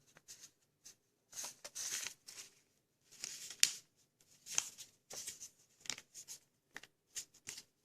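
Paper being folded and creased by hand for an origami Styracosaurus, a close series of soft crinkles, rustles and sharp creasing swipes in irregular bursts separated by quiet pauses.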